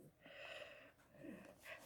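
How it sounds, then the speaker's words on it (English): Soft, rhythmic snoring breaths from a dog, quiet and close, with a few wheezy snorts and no talking. "That's my dog. She's snoring."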